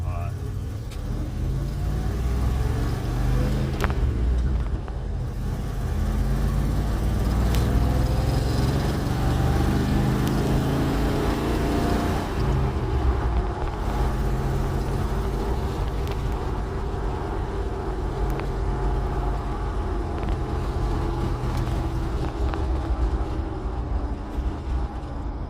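The engine of a 1991 Dodge Ram 150 pickup, running too hot, idles steadily with a low continuous rumble throughout, while a person talks over it.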